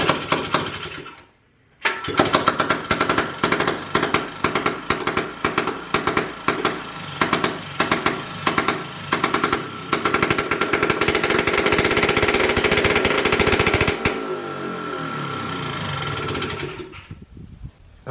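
A small four-wheeler ATV engine, one of the cheapest found on Facebook Marketplace, sputters to life after its pull start was fixed, then runs loud and close with a rough, uneven rapid putter and revving bursts before cutting off near the end.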